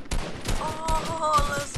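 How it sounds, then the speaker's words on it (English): Rapid bursts of gunfire in the video game Fortnite, several sharp cracking shots in a quick irregular volley, close and loud, with musical game tones running underneath. "I'm getting shot at"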